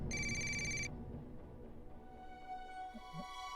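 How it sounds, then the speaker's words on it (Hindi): Telephone bell rings loud and near in a steady burst for under a second, then gives way to low room noise. "ये फोन की बैल, ये उसी का फोन है, फोन आया है।"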